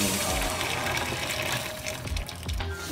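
Hot tap water runs steadily in a strong, hissing stream, close to the listener, with faint clatter in the background.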